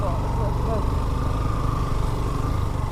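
A Yamaha R15 motorcycle engine runs at a steady, low, buzzing idle-like drone for the whole stretch, fairly close and continuous, with voices talking over it.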